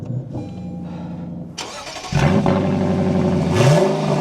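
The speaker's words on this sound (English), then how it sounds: "let's fire this up now and take a listen to that V8." Lexus LC500 V8 starting: a cranking whir, then the engine catches with a loud bark and settles into a deep idle, with a brief rev near the end, close and without talk.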